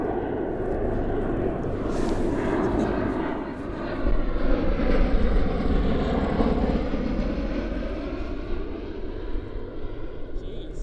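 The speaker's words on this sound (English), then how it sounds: "Incoming plane helicopter thing." An aircraft passes overhead above a remote Lake District tarn, a loud, sustained engine roar that swells and slowly fades over about ten seconds, with a person speaking briefly.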